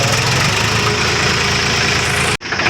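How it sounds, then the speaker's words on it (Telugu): A JCB machine engine running steadily while loading soil, a loud continuous mid-to-low rumble with a rhythmic throb that cuts off abruptly near the end. "లోడింగ్ చేస్తుంది జేసీబీ."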